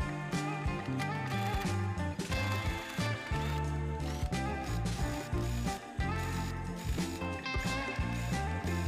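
A sewing machine top-stitches along the seam of a fabric bucket hat in a rapid, steady mechanical whir that runs for nearly the whole stretch, largely buried under continuous background music.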